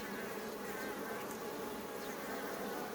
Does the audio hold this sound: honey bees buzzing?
yes